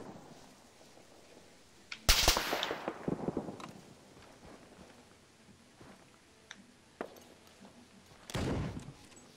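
Sniper rifle fire in Arma 3, a few sharp loud cracks with rolling echoing tails spaced seconds apart, surrounded by faint distant battle sounds.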